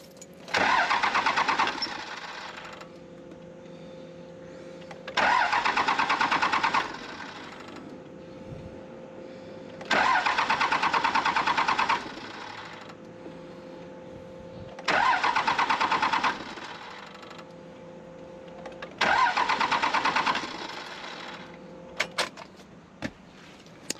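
A 2001 Cummins diesel engine cranks without catching: five loud starter bursts of about two seconds each, separated by quieter pauses with an electric whine, then a few light clicks at the end.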